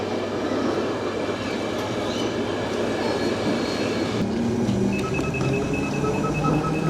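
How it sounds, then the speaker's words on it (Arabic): Vienna underground metro train running at steady speed, a continuous loud rumble of wheels and carriage with a faint rising whine near the end, no talk. "ده مترو الانفاق في فيينا."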